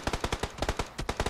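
Rapid bursts of automatic gunfire in the video game PUBG, a fast crackling rhythm of repeated shots at close range, with no voices.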